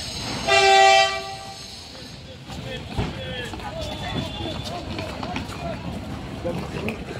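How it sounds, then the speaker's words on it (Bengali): A train horn sounds loudly for over a second as a train pulls into a crowded station, followed by a steady rumble of the train and a noisy crowd with voices throughout. "ট্রেন দিয়ে দিয়েছে মনে হচ্ছে।"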